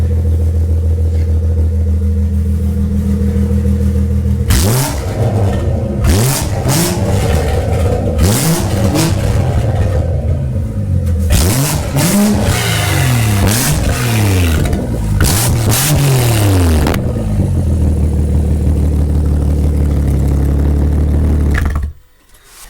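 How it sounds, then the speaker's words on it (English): A BMW 340i's B58 engine with a straight-pipe exhaust idles with a low rumble, then revs hard several times in a row, loud and close, before dropping back to idle and cutting off. "that thing is crazy loud"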